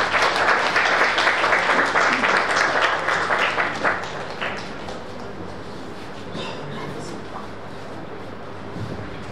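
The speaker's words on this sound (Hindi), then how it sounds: "एक बार जोरदार तालियों से स्वागत करिए" Loud audience applause welcoming a speaker at an event on the welfare of students with special needs, a thick burst of clapping for about four seconds that tapers off into a quiet room.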